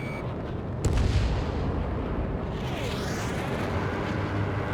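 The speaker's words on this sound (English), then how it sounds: "H2, missile launch." A missile launch in the combat flight game Ace Combat 7: Skies Unknown: a sudden sharp blast followed by a sustained rushing, sweeping roar that fades over a few seconds, with no speech.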